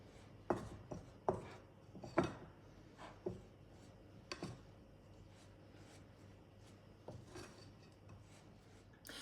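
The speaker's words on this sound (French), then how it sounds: "Je reprends les amandes et les noix torréfiées. Je les concasse grossièrement." Toasted almonds and walnuts coarsely crushed with a knife on a board, a few sharp, close chopping knocks early on, then softer, sparse scraping and cutting sounds, quiet and with no talk.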